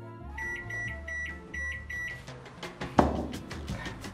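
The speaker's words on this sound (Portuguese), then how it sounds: "levar pra cozinhar no micro-ondas, vai ficar cozendo cerca ali de uns 5 a 7 minutos" A microwave oven cooking rice mochi dough under plastic wrap hums with a pulsing drone and a series of short beeps, then rattles and clatters as the door is handled, close up.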